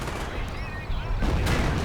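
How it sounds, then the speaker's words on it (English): Artillery shelling in the real-time strategy game Company of Heroes, a dense barrage of booms and gunfire rumbling continuously, swelling louder toward the end with bursts stacking over one another. "I'm just continuously shelling them with artillery"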